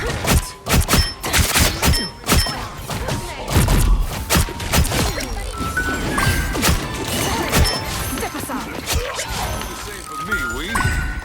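Sniper rifle shots fired in a first-person shooter game, sharp loud cracks early on followed by game effects, with a player talking excitedly over them.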